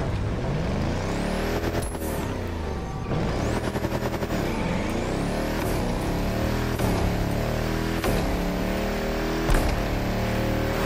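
Volkswagen Touareg engine in The Crew Motorfest, a steady loud drone with rising and falling revs and repeated sharp shift or pop bursts, running continuously throughout with no talking.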